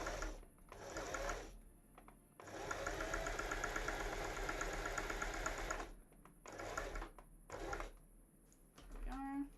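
A sewing machine runs a medium straight stitch on stretchy fabric in bursts of rapid, even mechanical whirring, stopping and starting several times at close range.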